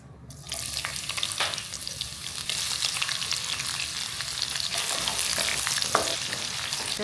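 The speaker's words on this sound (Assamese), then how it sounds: "তেলখিনি গৰম হৈ গ'ল আৰু এতিয়া দিম তেলত পিঁয়াজ" Onions drop into hot oil and fry with a steady, bright sizzle that swells after the first half second and holds loud and continuous, with faint scraping stirs, while spices and green chillies wait for a home-style chicken curry.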